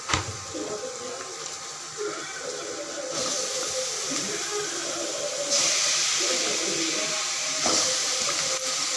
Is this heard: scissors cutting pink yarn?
no